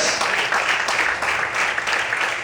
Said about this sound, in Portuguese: Quantos podem aplaudir o Senhor essa noite por isso?